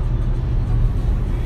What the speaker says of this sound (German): wir fahren jetzt wieder die 100 km/h